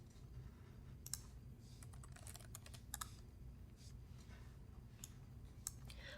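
Steady typing on a computer keyboard while entering a command at a Windows PowerShell prompt, with irregular key clicks and a few sharper taps over a constant low hum, close and fairly quiet, no talking.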